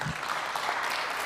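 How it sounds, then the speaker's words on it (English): Audience applause at the ETHDubai 2024 conference as a speaker is welcomed on stage, a steady wash of clapping throughout the short stretch with no voice over it. "So give a good round of applause for Guillaume"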